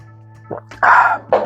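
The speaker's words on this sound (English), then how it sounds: "I'll have a sip." A few soft slurping sips and a small gulp from a cup, close up, over a low steady hum.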